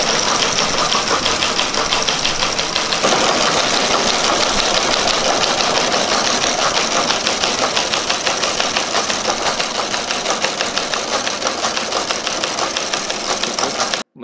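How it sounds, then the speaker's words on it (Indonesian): A Baudot teleprinter typewriter machine runs steadily, a dense, rapid mechanical clatter that continues loud and unbroken for about fourteen seconds, then stops abruptly. No voices are heard. "Ini mesin ketik ya"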